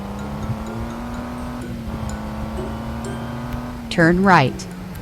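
A vehicle engine in the mobile video game Truck Simulator Ultimate drones steadily at speed, then a sharp rising and falling squeal near the end as it swerves hard.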